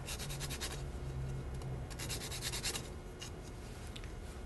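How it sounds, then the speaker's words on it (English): Fresh nutmeg is rubbed over a nutmeg grater for an onion quiche, making quiet, rapid, rhythmic scraping strokes that run without a break. "I'm going to grate some fresh nutmeg in there"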